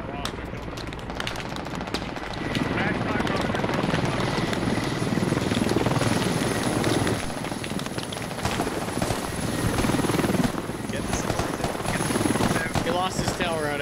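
A video game helicopter that has lost its tail rotor roars loud and continuous through a combat scene, with bursts of gunfire and some talking mixed in.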